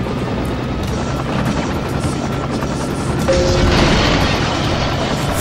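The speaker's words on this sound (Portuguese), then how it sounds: "Lá se vai o helicóptero." Helicopter in the PlayStation game Tony Hawk's Pro Skater 2, a steady loud rotor whir mixed with broadband game noise and rumble that swells slightly near the end, with no talking over it.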